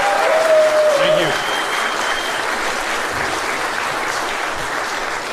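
Crowd applause fills the whole stretch as a steady, broad wash of clapping, with a brief voice and a whistle-like tone near the start.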